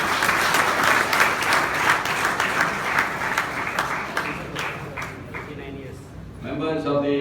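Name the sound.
audience applauding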